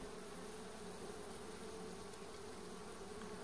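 Honey bees of the Apis cerana indica species, being shifted from a colony into a basket, hum in a dense, steady drone that fills the whole stretch at close range with no voices.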